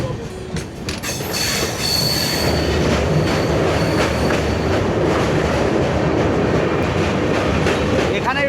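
A passenger train rumbles across the Barakar river bridge near Maithon Dam on the West Bengal–Jharkhand border, loud steady wheel clatter with squealing and rhythmic clicks, heard from onboard.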